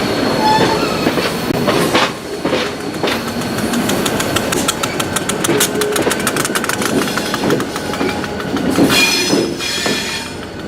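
Excursion train riding on the old Mad River and Lake Erie rails near Urbana, Ohio, a loud, continuous rumble with rhythmic clickety-clack of wheels over rail joints and brief wheel squeals, heard from aboard.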